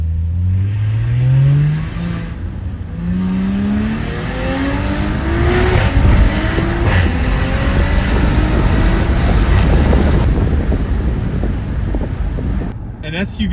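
An Audi SQ5 SUV with an upgraded turbo accelerates hard, its engine note climbing through rising sweeps and gear changes into a loud, steady roar, with heavy wind noise around it.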